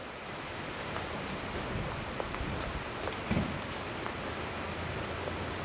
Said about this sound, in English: nice wet rainy day.